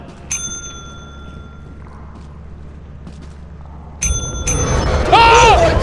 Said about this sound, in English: if you want to ring the bell.